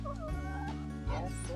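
Homestead poultry let out for the day, including a molting chicken, give bursts of clucking and gobble-like calls up close over a steady low hum.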